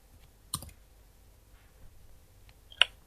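Two sharp computer mouse clicks about two seconds apart during a print-screen-and-paste task, quiet and close, with faint tiny ticks between them in near silence.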